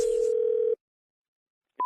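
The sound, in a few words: telephone dialing tone before a prank call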